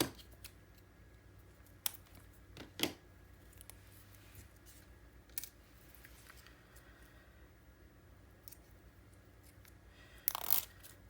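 Scissors snip through Graphic 45 Steampunk Spells patterned paper for a mini album: a few sparse, faint cuts spaced several seconds apart, with a slightly louder crisp snip near the end, in a quiet room.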